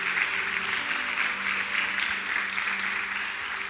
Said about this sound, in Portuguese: Aplauda ao Senhor Jesus pela vida de vocês.